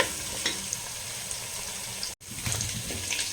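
Chicken and onion sauté in a pan for a spring onion chicken roast, giving a steady close sizzle and crackle with light stirring and a brief break near the end.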